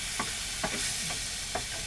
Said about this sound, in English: So I'm going to fry these off, which are dumplings with cottage cheese and potato